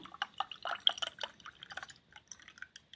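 Chilled almond paste milk poured into a vessel for saffron almond milk, giving a soft, uneven run of close liquid splashes and drips that trail off near the end.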